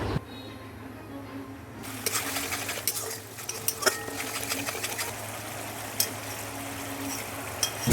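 A pan of pointed gourd gravy with curd being stirred, with a continuous bubbling sizzle and scattered scraping, clinking strokes of a utensil against the pan, close by, no talking.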